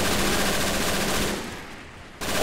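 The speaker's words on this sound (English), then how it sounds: "This is just a single heavy machine gun unit." Heavy machine gun firing in the Men of War: Assault Squad 2 war game, a dense continuous burst of loud rapid shots that briefly drops away before resuming.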